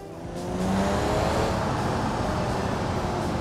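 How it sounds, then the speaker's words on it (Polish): A car with a new turbo drives in the BeamNG video game, the engine rising from a rev into a loud, steady, close drone with a brief high whine early on. "A ja sobie pojeżdżę normalnie moim autkiem i przetestuję nową turbinkę."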